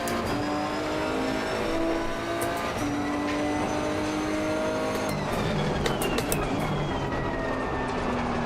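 Race cars in Assetto Corsa Competizione run off the track and crash: engines drone loudly and constantly, the pitch shifting as they rev, with tire squeal and brief sharp impact noises about halfway through.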